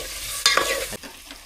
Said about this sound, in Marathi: मस्तपैकी चिकन फोडणीला दिला